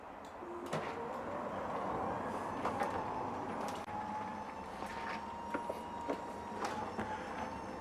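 A garage door hums and rattles faintly as it slides shut in a home garage, a low steady mechanical drone with scattered clicks and knocks, quiet and without talk.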